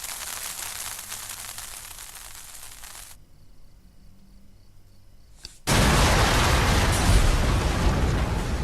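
A sudden loud blast erupts after a quiet lull in Sherlock Holmes: Crimes and Punishments, a dense, full-range roar that holds steady until the end.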